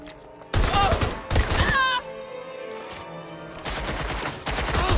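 Bursts of automatic gunfire rattle loud and close in a Watch Dogs: Legion firefight, arriving in several sharp clusters separated by brief quieter gaps filled with background noise.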